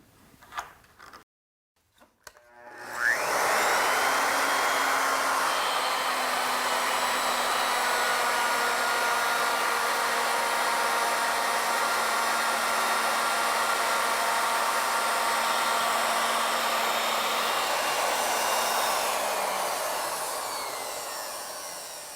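A router fitted with a V-groove bit cuts a spiral into a wooden spindle, with the pitch set for 6 inches. A few light knocks come first, then a loud, steady whine runs alone for almost twenty seconds before it slowly dies away.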